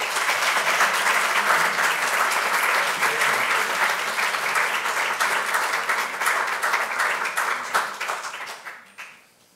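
Audience applause welcoming a lecturer, Thomas Lynch, at the 2016 Hibernian Lecture, loud, steady and dense, then tapering off near the end.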